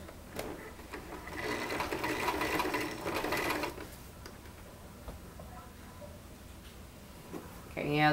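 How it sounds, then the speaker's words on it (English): A sewing machine stitches a zippered tote in a quick mechanical whir for a few seconds and then stops, followed by quiet handling sounds. "Sometimes I feel like I have the worst sewing machine in the world"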